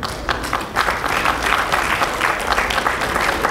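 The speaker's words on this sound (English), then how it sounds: "please give her another resounding round of applause" An audience at a national association convention in Houston applauds a keynote speaker, sustained crowd clapping at close range with a few louder claps standing out.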